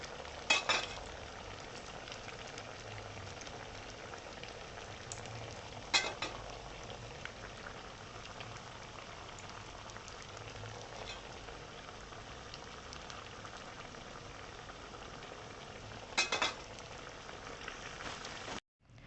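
Balitung tuber snacks frying in hot oil until golden, a steady soft bubbling sizzle throughout with a few brief louder clatters as pieces are stirred or turned, no voices.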